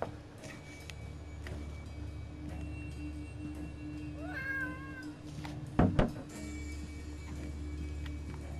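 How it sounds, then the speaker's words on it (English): A house cat meows softly a couple of times at mid distance, over a steady low hum with faint ticking and a brief knock afterward. "My cat says hi."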